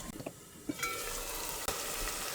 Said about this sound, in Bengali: মশলাটা ঢেকে ঢেকে একবারে ভেজে নেব